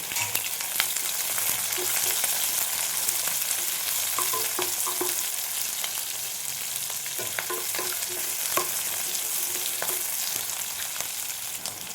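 Onion and green chilies fry in hot oil for a soya chunks fry, a continuous close sizzle broken by scattered scraping and tapping of a spatula stirring the pan.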